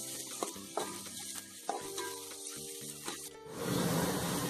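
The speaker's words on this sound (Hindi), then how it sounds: "प्याज को नरम होने तक हमें इसे पकाना है। इसे अच्छी तरह से मिला ले।" Onions with curry leaves cook in an oiled pan while a spoon stirs them, giving scraping clacks over a steady sizzle that swells into a louder, fuller hiss near the end.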